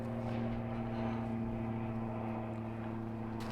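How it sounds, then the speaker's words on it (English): A low-flying airplane passes overhead with a steady, loud engine drone and strong tonal hum that holds throughout, slightly swelling midway, with no talking. "Bloody airplane's flying awfully low."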